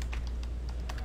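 Typing on a computer keyboard, a quick irregular run of light clicky keystrokes, close but soft, with no talking.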